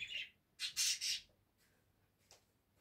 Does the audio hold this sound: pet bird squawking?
yes